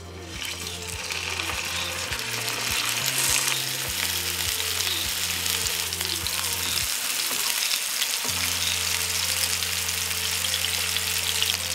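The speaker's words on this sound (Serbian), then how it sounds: "pljeskavice na zagrejano ulje" Meat patties (pljeskavice) fry in hot oil on a stove, giving a loud, steady, close sizzle that fills the whole stretch, with a low mechanical hum stepping in and out beneath it.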